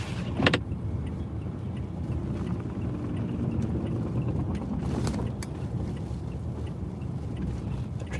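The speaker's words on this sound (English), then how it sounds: "Traffic is moving very slow because of the snow." Slow car traffic rolls along a snowy Chicago street, a steady low rumble of engines and tires with a couple of brief sharper clicks, and no voices.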